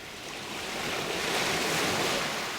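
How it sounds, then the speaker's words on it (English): Sea waves wash onto a cold, sunny coast, a broad rushing roar that swells gradually louder with wind buffeting mixed in, and no voices heard. "There's the sea."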